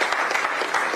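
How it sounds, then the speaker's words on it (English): An audience at a panel event applauds as a panelist is invited to the stage; a short, even burst of many hands clapping fills the moment. "A round of applause for Celine."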